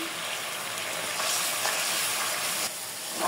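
Bay leaves and spices sizzling in hot oil for a snakehead fish curry, a loud continuous hiss and crackle close up, swelling slightly near the middle with faint stirring.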